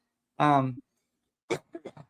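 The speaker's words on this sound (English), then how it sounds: "Sorry about all the coughing." A single harsh throaty cough is followed by a few short, quieter coughs or throat-clearing sounds, close and fairly faint.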